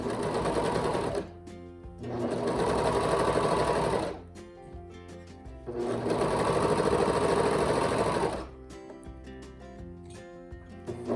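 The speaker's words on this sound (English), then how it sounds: "So when you're sewing on a curve, you've always got that bias on the fabric so it can stretch." A sewing machine stitches fabric for a scrub cap, sewing along a curve in three long steady runs of fast whirring, with short pauses between them as the fabric is repositioned.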